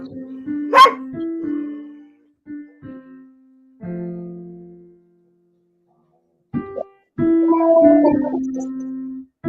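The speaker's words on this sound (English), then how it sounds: "yes, there's a puppy." A puppy barks and yips in loud, close bursts, some drawn out into whiny howls, separated by short pauses of silence.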